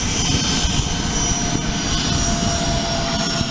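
At Aurora Municipal Airport, a propeller airplane's engine roars loudly and steadily at close range as the aircraft passes, a broad drone with no speech over it.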